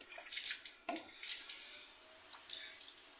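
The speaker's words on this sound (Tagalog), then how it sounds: "buhusan mo ulit ng tubig dahil niliha natin eh" Tap water poured onto a sanded motorcycle drum brake on a SYM Radar 125, coming in short splashing bursts with gaps between them, faint and close.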